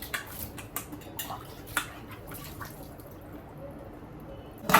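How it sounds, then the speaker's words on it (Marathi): Dishes being washed at home, scattered light clinks of pots, cutlery and dripping water, quiet and irregular, ending in a brief louder clatter. "आता मी घासते भांडी"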